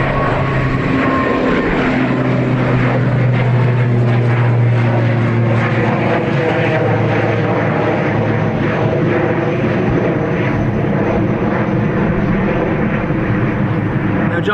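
Turboprop airliner at Dublin Airport, its propeller engines droning steadily and loudly with a low tonal hum that shifts pitch over the stretch, a voice talking briefly over it.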